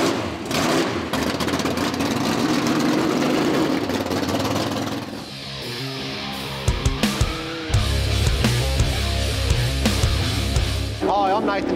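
A 1970 Ford Capri with a naturally aspirated 370 cube Windsor V8 making 720 horsepower, at a street drag and cruise event. Loud, rough rumbling and revving comes first, then a lumpy idle with sharp pops, and voices sound in the background.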